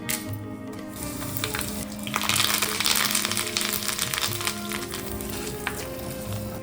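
Curry leaves and chillies sizzle and crackle in hot oil with mustard seeds during tempering for an Onam pachadi, a steady busy frying hiss that swells briefly midway, with no speech.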